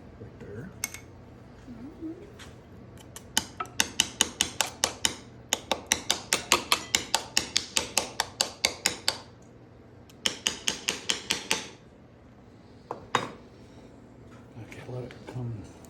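A small hammer taps rapidly in quick runs of light, sharp metallic strikes while a velvet buck is mounted for taxidermy, close by with pauses between bursts and people talking quietly nearby.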